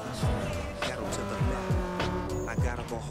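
In NFS Underground 2, a car drifts with a revving engine that repeatedly swoops down in pitch, broken up by sharp tire squeals, all close and steady while someone talks over it.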